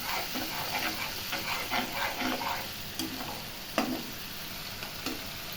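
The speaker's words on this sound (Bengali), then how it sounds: "ভালো করে নাড়িয়ে নেব।" Large prawns sizzle in a frying pan while a spoon stirs them, producing soft repeated scraping and clinks over a continuous quiet crackle.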